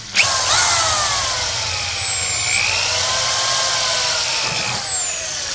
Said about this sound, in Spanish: agarramos nuestro taladro y se lo hacemos